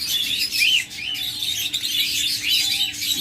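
Pet birds in a bird shop chirp and tweet in quick, repeated bursts over a faint steady background hum, fairly close and continuous.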